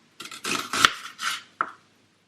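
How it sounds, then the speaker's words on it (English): A knife cuts onions into rings on a board, making a short run of four or five close, crisp slicing and tapping strokes followed by one sharp knock, then silence. "What you do now is chop the onions into rings."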